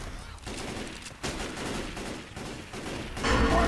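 Gunfire in a video game, a multiplayer match on The Parish map: rapid bursts and volleys repeat through the stretch and grow louder and heavier toward the end, with no talk over them.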